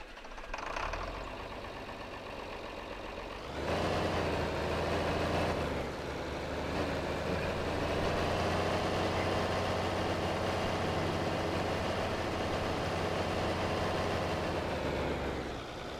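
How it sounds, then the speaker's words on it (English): A newly bought tractor in Farming Simulator 22 runs at a steady, rumbling idle, its engine note stepping up louder around 4 seconds and then holding a constant drone with no talk. "So we got us a new tractor."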